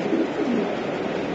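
A Janssen line racing pigeon, a hen, gives low throaty coos up close, a continuous rolling murmur with no pauses.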